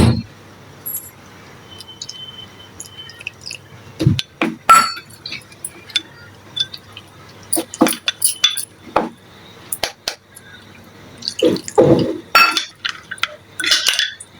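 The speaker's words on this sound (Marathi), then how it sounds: "थोडं थोडं पाणी टाकून आपल्याला मिक्स करून घ्यायचं आहे" Slurry batter for cheese corn balls being mixed with water in a bowl, with a spoon clinking against the sides in scattered, irregular bursts, fairly close, with no talking.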